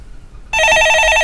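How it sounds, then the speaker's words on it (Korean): A telephone rings for an incoming call to a live stock-market call-in show, an electronic ring with a rapid repeated trill that starts abruptly after a near-silent moment and continues loud and close, alone. "네, 전화 받아보겠습니다. 여보세요?"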